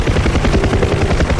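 Helicopter rotors in the DCS World flight simulator during a naval autorotation competition: a loud, close, continuous rhythmic chopping with a heavy low thump.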